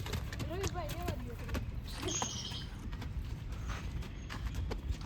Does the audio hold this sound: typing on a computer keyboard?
no